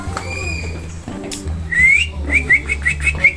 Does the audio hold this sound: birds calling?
yes